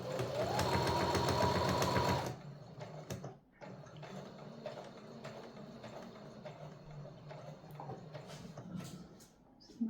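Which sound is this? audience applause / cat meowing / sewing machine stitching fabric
sewing machine stitching fabric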